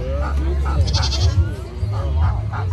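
A goat bleats at a park petting zoo, a few wavering cries heard close by over a continuous low rumble of background noise, with people talking around it.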